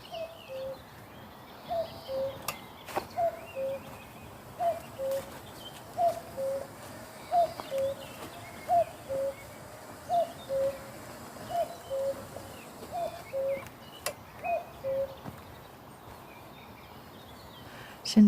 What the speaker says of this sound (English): It keeps cuckooing and then stopping.